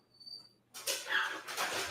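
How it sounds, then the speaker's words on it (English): A dog whimpering and whining to be let out, faint high whines first, then louder breathy whimpers and scratchy sounds close by, no talking. "my dog wants to get out"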